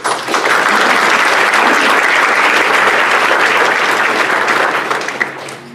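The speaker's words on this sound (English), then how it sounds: "A round of applause, please." Loud, sustained applause from a lunch audience at an economic forecast event, with steady dense clapping that swells in quickly and tapers off near the end.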